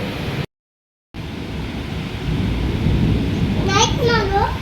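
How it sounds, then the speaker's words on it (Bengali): Steady heavy rain pours close by through a thunderstorm, with a low continuous rumble; near the end a voice rises above the downpour. "কি পরিমাণে ঠাডা পড়তেছে"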